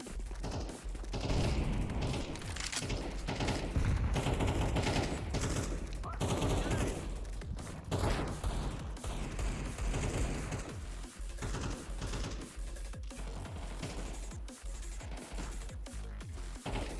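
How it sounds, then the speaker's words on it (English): Handgun shots and other gunfire ring out during a Counter-Strike 2 match, as dense bursts of game combat that run for the whole stretch over a loud background, with a voice talking now and then. "There's a handgun noise."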